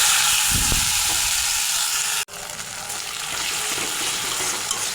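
Bay leaves and whole cumin sizzle in hot oil in a home kitchen, giving a loud, dense hiss that briefly drops out at the midpoint and then carries on without a break.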